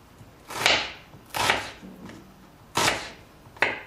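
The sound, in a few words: knife cutting red onion into rings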